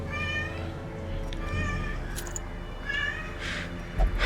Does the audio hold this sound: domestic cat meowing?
yes